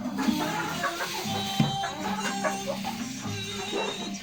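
Hens, including Bresse Gauloise, Australorp and Rhode Island Red, cluck and murmur steadily in a busy coop, overlapping soft calls with a low background hum, close and continuous.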